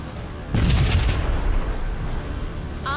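Missile explosions in the Sunrider: Mask of Arcadius space combat game, a loud booming blast that swells then rumbles and fades, with a short electronic tone at the end.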